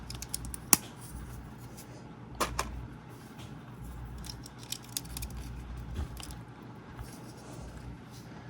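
Scissors make a small cut while a Lego Ninjago green NRG dragon set is being built. A couple of crisp, isolated snips stand out against a quiet room.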